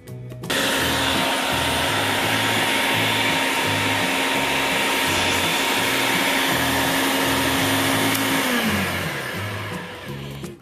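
A food processor chopping ingredients for Puerto Rican sofrito, a loud continuous motor whir with a pulsing churn of vegetables that runs steadily and then winds down at the end.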